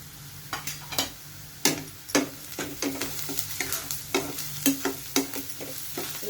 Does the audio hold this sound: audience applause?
no